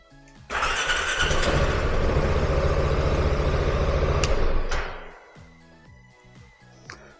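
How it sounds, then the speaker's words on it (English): A Piaggio MP3 530 scooter engine cranks and catches, then runs loud and steady for about four seconds before cutting out, leaving quiet clicks and faint noise behind. "then I can just press the ignition button to start the engine"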